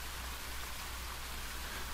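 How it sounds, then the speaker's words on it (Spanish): Rain falls steadily as a sound effect in an audio story, a soft, even hiss of drops with no other sounds. "La primera cosa que pude oír fue el sonido de la lluvia cayendo."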